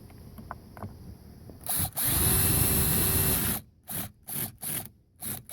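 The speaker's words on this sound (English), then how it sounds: "Got a drill with a clutch feature on it. Now would be the time to use it" A cordless drill with its clutch set low drives screws into plastic nut plates on a car door panel, with a short steady whir followed by several brief, close, loud bursts.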